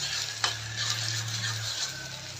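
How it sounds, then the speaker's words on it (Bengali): Chopped onions frying in hot oil for a fish and tomato curry, an even, close sizzle that holds steady throughout, with one brief scrape or tap early on. "তেল গরম হয়ে গেছে, এখন পেঁয়াজ কুচি দিয়ে দিব। দিয়ে পেঁয়াজ কুচিগুলো ভালো করে ভেজে নিব।"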